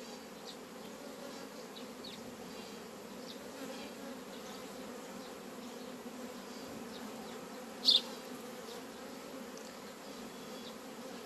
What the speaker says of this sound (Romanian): Iată ce de albina are un astfel de roișor